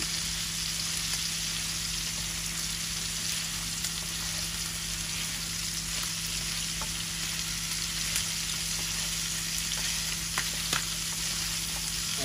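Pangas fish frying in a pan in a Bangla home kitchen gives a steady, close hiss of hot oil, an even sizzle with faint crackles and occasional pops and no voices.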